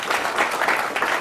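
Audience applause from a gathering, a dense and steady wash of many hands clapping at close range with no voices over it.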